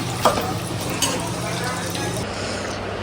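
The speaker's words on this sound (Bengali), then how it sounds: "আর এদিকে চিকেনের জন্য আলু ভাজছি।" Potatoes frying in a pan for a chicken dish, a steady broadband sizzle running throughout with a couple of brief clinks near the start and the hiss easing slightly toward the end.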